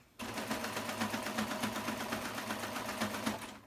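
A serger sewing machine stitching a ruffle into fabric runs at a steady, rapid mechanical pulse from just after the start to the end, loud and close.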